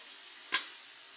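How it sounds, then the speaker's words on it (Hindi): Fried okra drops into a pan of hot masala for a bhindi masala, a single soft burst of sizzle rising over a faint steady background hiss and fading within a second. "ये फ्राई हुई भिंडियाँ हम इसमें ऐड कर देंगे।"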